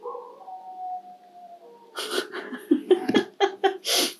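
Dog howling in a long mournful wavering tone, followed by louder broken yelps and wails, close by with a person laughing and breathing nearby.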